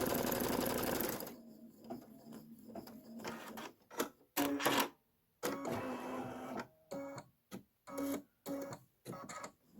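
An embroidery machine stitching a placement line whirs steadily in a dense stitching burst, then runs in short start-stop spurts separated by brief silences.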